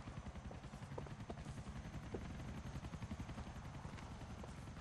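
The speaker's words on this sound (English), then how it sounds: "There's two helicopters on top of us." Two police helicopters hover overhead in the video game GTA 4, a faint, continuous rotor chop pulsing steadily with scattered sharp gunfire-like cracks mixed in, no voices.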